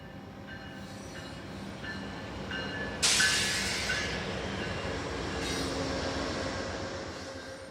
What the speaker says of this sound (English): Amtrak's westbound Sunset Limited crosses over the Neches River and makes way for the